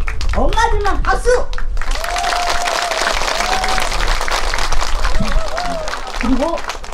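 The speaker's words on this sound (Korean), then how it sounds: "그럼 여기 계신 우리 엄마들만 박수!" Mothers in the audience at an outdoor Korean performance with janggu drumming clap along in a steady, dense burst of applause, mixed with crowd chatter, children's voices and a singer or host's voice over it.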